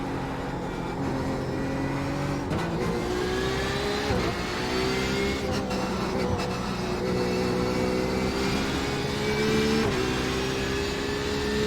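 Porsche 911 RSR race car in the iRacing simulator at Spa-Francorchamps, a loud, steady engine drone with rising pitch sweeps as it accelerates through the gears, with brief dips at shifts; no talking.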